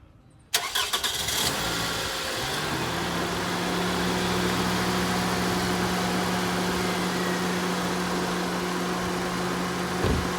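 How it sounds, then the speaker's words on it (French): A 2011 Toyota RAV4 engine cranks and catches after a brief pause, then settles into a steady, even idle that runs on uninterrupted. "Je vais démarrer le moteur maintenant."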